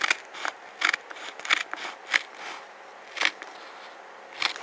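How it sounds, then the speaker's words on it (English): Scissors snipping through material, a handful of short crisp cuts spaced irregularly, close and fairly clear with no talking. "I'm just gonna cut it."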